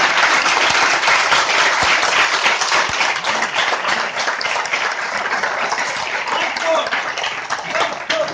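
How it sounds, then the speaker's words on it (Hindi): An audience at a Hindi motivational seminar breaks into dense, sustained applause, loud and steady for the full stretch, with voices mixed faintly into the clapping. "तालियों में कड़क नहीं है"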